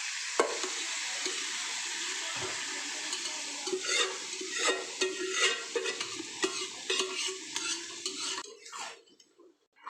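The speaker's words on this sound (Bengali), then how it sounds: "তো মশলাটা এখন কষানো হোক" Spice paste for chicken curry sizzles and fries in a pan while a utensil stirs and scrapes through it steadily, close up, with occasional metallic clinks.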